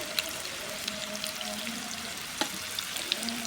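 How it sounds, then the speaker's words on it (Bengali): Olives fry with browned garlic in a pan for a sour, salty and sweet olive pickle, making a faint, even sizzle with a few light clicks from the pan. No voices. "রসুনগুলোকে ভেজে নিয়ে এবার জলপাইটাকে দিয়ে দিচ্ছি"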